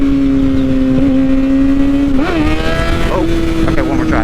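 A motorcycle engine revs hard and close while the rider lifts into a wheelie, the pitch holding steady then climbing in sharp surges over a constant loud drone.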